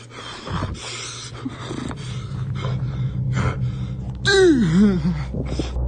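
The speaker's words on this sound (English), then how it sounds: "dude's like breathing in his phone." A man breathes heavily into a phone, with ragged close-up breaths and snorts building to a long, wavering gasp near the end. The sound is muffled and lo-fi, with no clear talk.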